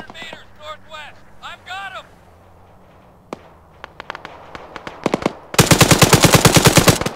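Machine gun fire in the video game Arma 3, scattered shots at first, then a loud sustained rapid burst close up at the end, following a stretch of German talk among players.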